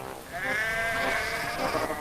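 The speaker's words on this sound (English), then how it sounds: "Their wagons were full of sheep." A single sheep bleats in a drawn-out, wavering cry lasting over a second, close and clear against a soft background.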